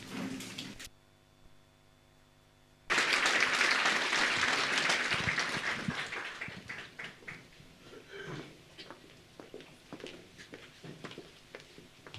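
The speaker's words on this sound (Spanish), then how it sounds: "Una vez más, por favor, vamos a dar fuertes aplausos." A church congregation at a Sunday service gives a short burst of applause that swells abruptly after a quiet pause, then thins into scattered claps as it fades.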